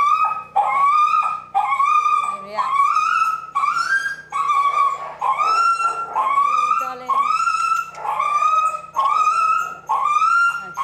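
A frightened rescued dog whimpers and whines in a long series of rising, wavering cries repeated at a steady rhythm, close and fairly loud, with short pauses between.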